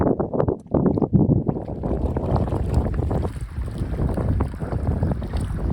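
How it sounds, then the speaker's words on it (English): Strong wind gusts across a lake on a solo wilderness fishing trip in Woodland Caribou, a loud continuous rushing roar buffeting the microphone throughout, with louder bursts near the start. "This wind is something else."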